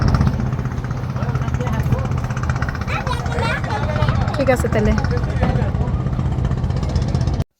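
A steady low trawler boat engine drone runs throughout, with voices talking over it on a boat packed with people and a bustling outdoor background.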